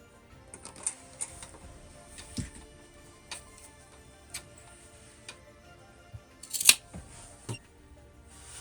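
Scissors cut through fabric scraps in a quiet room, giving a handful of sparse, crisp snips and clicks spread across several seconds with no talking.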